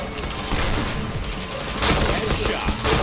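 Rapid overlapping gunfire bursts in a team shooting video game with headshot kills, dense and loud throughout with sharp impacts and a brief swell near the end.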